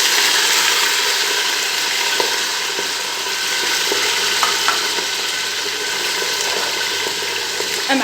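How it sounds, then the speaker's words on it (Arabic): Chicken thigh, onion and ghee fry in a hot pot, giving a loud, steady sizzle and crackle with occasional clicks and scrapes from a stirring spoon, and no voices. "ونخلوه كلشي يتقلى واحد 5 دقائق"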